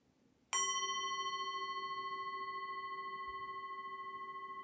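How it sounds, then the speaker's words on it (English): A single bell strike rings out clearly in a quiet room, its bright tone sustaining and slowly decaying for several seconds. "listen to the sound of the bell"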